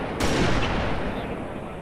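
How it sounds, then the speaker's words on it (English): A single sharp sniper rifle shot in a chaotic multiplayer zombie video game, a loud crack followed by a brief decaying tail over game noise. "That was a sniper?"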